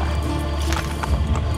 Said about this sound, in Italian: Si potrà anche girare col cavallo